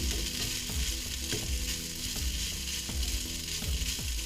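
Fried pasta with a hint of tomato is stirred and tossed in a hot pan, giving a steady loud sizzle broken by repeated scraping and clacking strokes of the utensil, with no talking.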